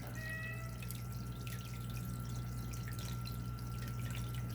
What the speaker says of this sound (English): look how slowly the water is dripping out the bottom